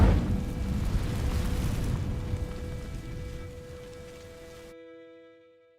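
An Incendio fire spell flares against dry vines in Hogwarts Legacy, a loud whooshing burst that settles into a crackling, rain-like rush and slowly fades under sustained tones.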